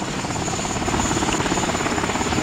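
A helicopter hovers in the video game MOWAS2, its rotor giving a steady dense whirring drone with a fast regular chop, loud and constant throughout, with no talk.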